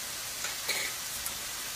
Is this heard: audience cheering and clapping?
no